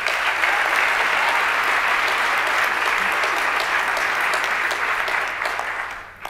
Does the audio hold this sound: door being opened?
no